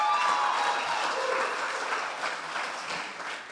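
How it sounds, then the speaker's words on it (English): A crowd at a collaboration-themed event applauds warmly, the clapping strong at first and then gradually thinning and fading, with a faint squeal of feedback near the start. "How about a round of applause for Trey and Corey for putting this event on?"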